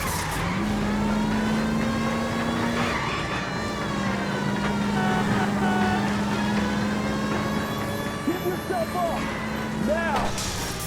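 Car engines roar steadily through a chase in the L.A. Noire video game, with siren-like wailing tones and a few brief knocks near the end, while voices talk over the action.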